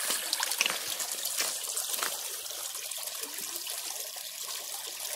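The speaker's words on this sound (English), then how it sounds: "Quickie rinse." Water from a tap splashes and trickles over a shell-covered fossil-bearing rock from Ohio during a brief rinse, a close, steady hissing stream with small fluctuations.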